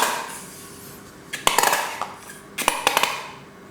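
Mayonnaise and mustard are measured and mixed in a small pot for a bacon cheese burger sauce, a few close bright clinks and taps of a spoon against the pot in two short bursts over quiet background.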